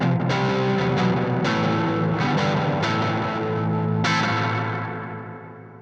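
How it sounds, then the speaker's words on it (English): Electric guitar through an Earthquaker Devices Ghost Echo reverb pedal, following a Grand Orbiter, with distorted chords struck every second or so and left to bloom into a long, washy reverb tail that fades at the end. "After Grand Orbiter, Ghost Echo for reverb."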